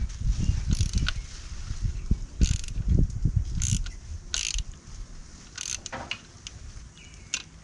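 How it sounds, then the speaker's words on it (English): A 5 mm bolt is turned by hand into a bicycle derailleur hanger, giving close small metallic ticks and ratcheting clicks in an uneven rhythm over a steady background hiss, with no talking. "Just gonna screw it in with my fingers."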